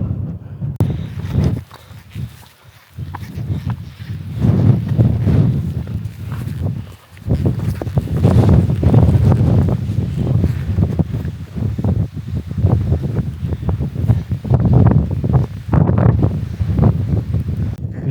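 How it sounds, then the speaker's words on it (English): Strong wind sweeps the open alpine zone of the White Mountains, roaring and gusting loudly into the microphone with irregular buffeting surges, broken by a short lull, and no voices. "The hills are alive with a lot of wind."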